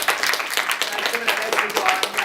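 An audience at a graduate showcase event applauds in a dense, steady wash of clapping that holds for a couple of seconds, with voices faintly mixed in.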